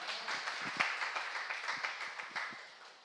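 A church congregation claps along during a Sunday afternoon worship service, a quick rhythmic series of distinct claps at moderate distance, fairly soft, continuing steadily across the span.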